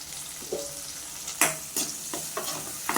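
Onion, dried curry leaves and green chili sauté in a pan for a sardine curry, giving a steady close hiss of frying broken by five or so sharp scrapes and clinks of a stirring spoon, with no talking.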